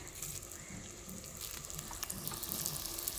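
Curry leaves dropped into hot oil give a steady, soft crackling sizzle that builds slightly toward the end, faint and close, with no talking.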